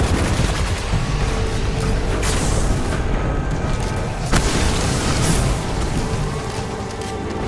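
Sustained gunfire from the Destiny 2 video game, rapid shots and booming impacts rolling on continuously at loud, steady volume with dense layered bursts and no break.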